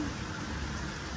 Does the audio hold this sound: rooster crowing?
no